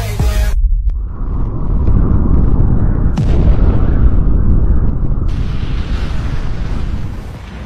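A missile explosion sound effect erupts as a loud, sustained roaring blast, starting with a sharp burst and rumbling heavily for several seconds before fading slightly.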